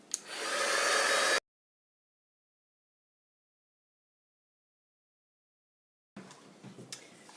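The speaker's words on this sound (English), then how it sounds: "So I've got both of those ready now for the heat tool." Heat embossing tool blowing hot air over white embossing powder on paper, a loud steady whoosh that runs briefly before cutting off, followed by quieter crafting noises.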